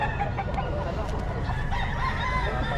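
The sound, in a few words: rooster crowing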